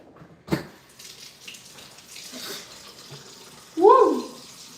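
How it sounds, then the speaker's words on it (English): Cold tap water runs while hands are washed in a kitchen, a soft splashing stream that swells near the end. A short knock comes early, and a voice briefly exclaims over the water. "I'm washing my hands."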